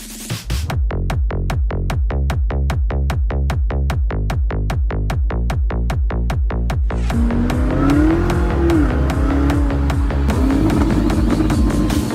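A 2024 Nissan GT-R, recovering from wreck damage, drives onto a trailer: a loud, steady engine drone with rhythmic pulsing at first, then a smoother rising and falling engine tone, close by, with no talking.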